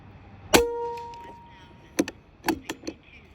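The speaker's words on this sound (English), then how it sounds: "Shooting Nielsen 21 grain slugs." An Artemis P12 .177-caliber airgun with a 15-inch barrel fires Nielsen 21-grain slugs at a steel target about 98 yards away. A crisp shot with a ringing tone is followed by a cluster of sharp metallic clangs.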